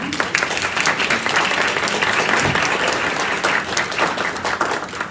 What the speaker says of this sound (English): So a round of applause, please, for them.